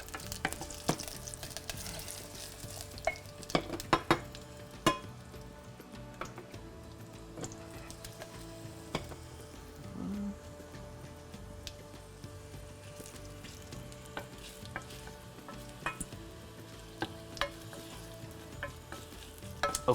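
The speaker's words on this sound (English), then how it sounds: "be aware when roasting chilies like this that it can get very bad very quickly" Chilies and curry leaves roasting in a pan for khaman dhokla, sizzling and crackling steadily with scattered sharp pops and ticks, a close continuous fry with no voices.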